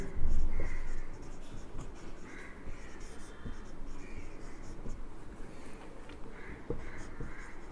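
Pen scratches steadily on paper while chemistry notes are written by hand, a soft continuous scribble under a voice explaining.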